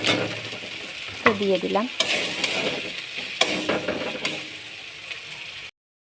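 Chilli powder and turmeric powder hit hot frying oil in a pan of spiced masala, sizzling steadily while a utensil stirs and scrapes with a few sharp clinks. A voice speaks briefly.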